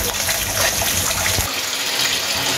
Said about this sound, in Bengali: দিয়ে দিলাম পানি